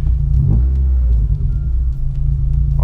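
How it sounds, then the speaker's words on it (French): Car engine accelerating with an odd gurgle like running water, a loud low rumble close by inside the vehicle with a slight rise in pitch, no talking. "Quand j'accélère, on entend de l'eau comme s'il y avait de l'eau qui tombait"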